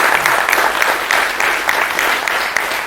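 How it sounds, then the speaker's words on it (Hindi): Audience applause during a speech about the SCO summit, a loud, dense burst of steady clapping from a large crowd lasting a few seconds with no voices over it. "इसलिए हमें अपने देश के लिए और अपने आप के लिए ताली बजानी चाहिए।"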